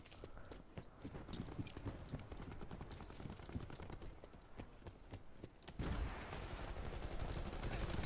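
Rapid gunfire bursts in the online shooter Call of Duty Modern Warfare, a dense string of sharp cracks and pops at moderate level over game background noise, becoming busier and louder toward the end.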